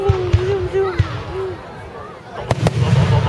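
Fireworks burst in the night sky over Richmond, a few sharp pops and booms spaced irregularly with a whistling rise between them, while people talk and cheer nearby.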